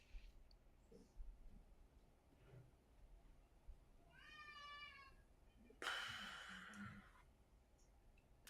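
A cat meows outdoors, one drawn-out, wavering meow sounding faint and distant against a quiet background, followed shortly by a brief sharp burst of noise.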